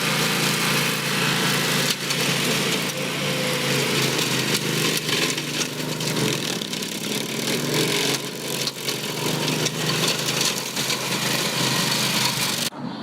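An Atex AR950FA brush mower runs steadily on contoured golf course ground, its engine giving a continuous, loud, high-pitched drone with little change throughout.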